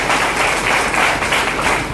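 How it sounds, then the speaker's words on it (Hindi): Loud, dense applause from an audience at a local Indian event welcoming two successful daughters, Divya Tanwar and Nisha Phogat, a steady wash of many hands clapping close by with no pause. "आप भी एक बार जोरदार ताली बजा करके इनका स्वागत करें"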